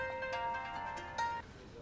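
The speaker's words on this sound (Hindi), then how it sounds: "जियाओ का ही फोन है।" A bright electronic phone ringtone with steady tonal notes, fairly close, ending abruptly partway through, with faint room noise after.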